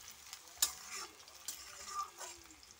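A boiled egg frying on top of browned onions in a pan, with soft scattered sizzling and occasional stirring clinks of a utensil, fairly quiet and close with no talking.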